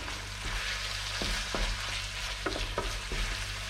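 A spoon stirs minced meat with added beef broth in a pan, producing a low bubbling simmer with a gentle sizzle and several distinct scraping strokes against the pan, close and moderately quiet.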